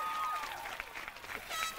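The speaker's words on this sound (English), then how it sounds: "give them a round of applause as we say thank you to your families" A crowd at a 2018 magnet high school graduation ceremony applauds families in a steady, even wash of clapping for nearly two seconds, with a speaker's voice faintly mixed in.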